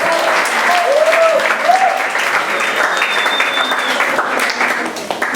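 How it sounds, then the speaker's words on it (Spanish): Summer camp audience at a Christian morning meeting applauding a speaker, steady dense clapping at close range across the whole stretch, with faint whistle-like tones and a little crowd noise mixed in. "Fuerte aplauso para él."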